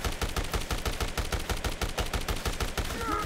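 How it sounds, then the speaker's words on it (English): Rapid sustained machine gun fire in the Dead Rising game, a steady, loud stream of evenly spaced shots with a faint whistling tone near the end. "Machine gun?"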